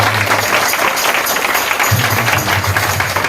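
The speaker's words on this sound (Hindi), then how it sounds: "सब लोग जोरदार ताली बजा के परमेश्वर" Congregation at a Christian meeting in Mumbai clapping loudly to praise God, a dense, steady wash of applause throughout with a low hum of voices or music underneath.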